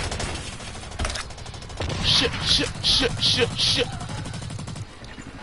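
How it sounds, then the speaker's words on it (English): Enemy gunfire in a video game comes as a fast, loud rhythmic burst of five or six shots over steady game noise, and a man blurts out a short word just before it. "It's firing the gun at me."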